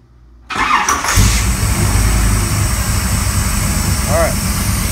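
A 383 V8 in a third-generation Camaro fitted with FiTech Go EFI cranks briefly and catches, then settles into a loud, steady idle close by.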